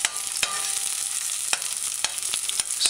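Chopped onions sauté in a hot pan with a steady, close crackling sizzle, broken by a few sharp clicks of a spoon stirring against the pan.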